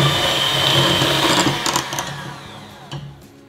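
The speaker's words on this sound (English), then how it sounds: "Let's cream the sugar and the butter together with our mixer." An electric mixer creams sugar and butter for homemade waffle batter, a loud steady motorized whir that fades and slows toward the end with some clattering against the bowl.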